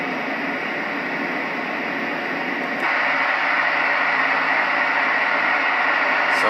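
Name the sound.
white noise sound machine playing noisier fan sound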